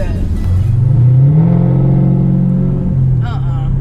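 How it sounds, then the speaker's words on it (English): A Camaro SS V8 fitted with a Pedal Commander throttle controller rumbles and rises in pitch as it revs, with air-intake whoosh up close and a voice briefly near the end. "I can hear the air intake and everything"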